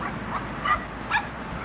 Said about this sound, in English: she hears the other dogs barking over there